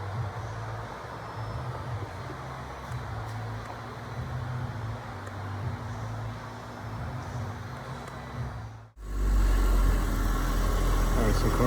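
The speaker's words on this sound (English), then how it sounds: "Alright, so car is started." Range Rover engine running at a steady low idle with a constant rumble and hum, then an abrupt cut to a louder, rougher low-frequency roar near the end; a person talks briefly over it.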